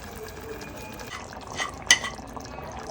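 Tamarind juice poured into a yam curry simmering in a pot gives a soft, quiet liquid splash with a faint stir and one brief clink of a utensil against the pot.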